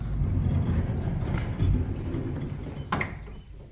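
A wooden storage shed's sliding door rolls open along its track, a steady rumbling scrape that runs throughout, swelling briefly midway and ending with a sharp knock as it reaches the stop.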